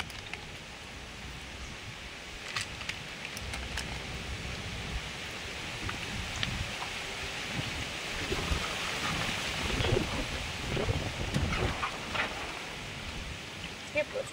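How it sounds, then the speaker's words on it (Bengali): Strong stormy wind roaring outdoors during open-air cooking with a clay pot, a dense continuous rush with gusty surges and scattered clicks and knocks. "প্রচন্ড হাওয়া হচ্ছে, ঝড়ের মতো যেন।"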